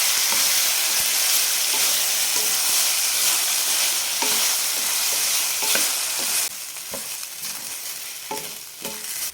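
Ground masala paste for a kurma sizzles steadily in a hot pan while a spoon scrapes and stirs in repeated strokes; the sizzle quiets somewhat partway through.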